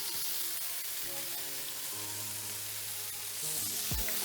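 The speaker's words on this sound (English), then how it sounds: "I'm gonna take in this pan, I'm gonna just do up a fried egg" A fried egg sizzles in a pan, a loud continuous crackling hiss that stays steady throughout, with faint tonal hum underneath and a brief clunk near the end.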